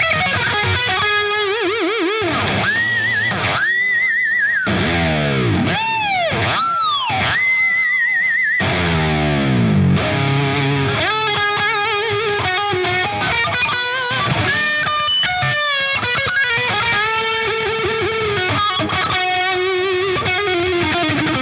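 A budget metal guitar setup plays a distorted electric lead tone, with screaming sustained notes, wide bends and fast runs, loud and continuous.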